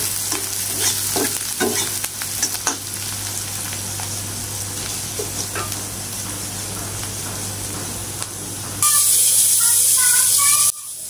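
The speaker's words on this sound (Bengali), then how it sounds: "এই তেলের ভিতর পেঁয়াজ কুচি দিয়ে দিলাম। পেঁয়াজগুলো ভালোভাবে নেড়ে চেড়ে লাল লাল করে ভেজে নিব" Chopped onions fry in leftover fish oil in a pan, a continuous sizzle with scraping stir strokes near the microphone, ending in a louder, brighter burst of frying hiss.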